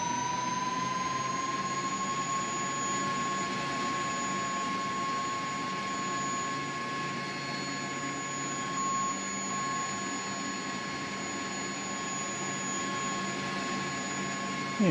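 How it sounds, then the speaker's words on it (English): Auxiliary power unit on a CH-47D Chinook helicopter running in the X-Plane 11 flight simulator: a steady, loud turbine whine with a sustained high tone, constant for the whole stretch with no talk. "Let's get the APU started. And it's starting up the way it's supposed to."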